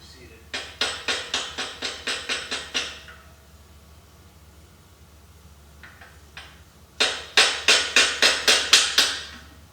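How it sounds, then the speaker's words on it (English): Light metal taps from a socket seating a part while building a race Honda TRX250R ATV, two quick bursts of about eight sharp, evenly spaced taps each, with a few fainter taps between them. "I usually just take that socket again, just give it a light tap."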